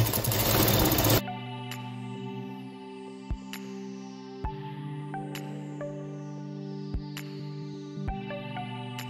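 A sewing machine stitches along the open edge of a handkerchief, a close, steady mechanical hum broken by a few sharp clicks, after a short burst of loud noise at the start.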